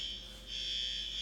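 A fire alarm sounds as a steady, loud, high-pitched electronic tone that continues unbroken with no speech.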